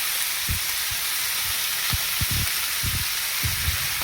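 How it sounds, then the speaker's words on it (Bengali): Vegetables sizzle in hot oil with a constant bright hiss, punctuated by several low thumps and pops from stirring. "এবারে সবজিটা ভাজা হয়ে গেছে"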